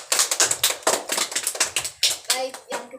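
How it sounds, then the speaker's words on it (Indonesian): A primary school class in Indonesia claps for themselves in a burst of quick, uneven applause that fills the room, with a few young voices rising near the end. "Tepuk tangan dulu untuk kalian sendiri."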